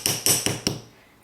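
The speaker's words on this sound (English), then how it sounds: "I'll just hammer this down to kind of flatten my wire out." A hammer strikes metal wire to flatten it, giving four close, sharp, ringing blows in quick succession, each decaying briefly before the next, with no talk.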